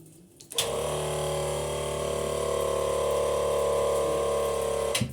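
An off-grid water pump at a country house switches on after a brief quiet moment, droning with a steady motorized hum and whine as it builds pressure, then cuts off abruptly at the end.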